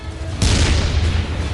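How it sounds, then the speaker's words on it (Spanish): A tank cannon fires once in battle, a loud, heavy boom that rises sharply and then rolls on as a long rumbling tail over steady background noise. "Disparé tan pronto como pude."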